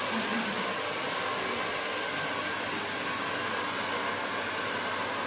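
A hair dryer blows steadily and loudly throughout, a constant broadband roar while hair is blow-dried at a salon haircut, with no voices.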